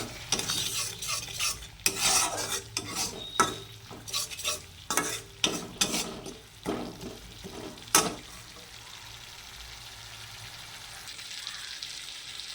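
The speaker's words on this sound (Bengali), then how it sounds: "এখানে সমস্ত মশলা দিয়ে ভালো করে সামান্য একটুখানি জল দিয়ে ভালো করে মশলাটাকে কষিয়ে নিতে হবে" Spice paste sautéed with a little water in a pan, stirred in bursts of scraping strokes over a steady sizzle, then left to fry quietly for the last few seconds.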